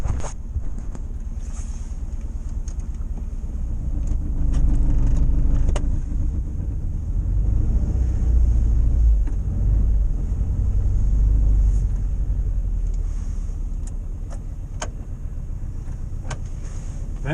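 A Morris Minor car engine misfires and runs rough, a steady low rumble with uneven lumpy beats throughout, continuous and fairly close with some wind buffeting and no talk.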